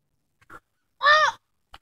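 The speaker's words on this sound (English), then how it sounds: "a few hundred, or probably about 100 or two blackbirds." A bird calls once loudly and close by, a single harsh, buzzy caw lasting about a quarter second, with a few faint softer chirps before and after, from a flock of blackbirds.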